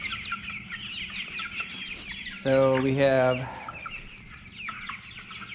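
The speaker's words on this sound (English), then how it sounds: "We have 54 meat birds." Meat chickens cluck steadily around a farm coop, with one louder, drawn-out squawk rising briefly near the middle before the flock settles back to a low murmur.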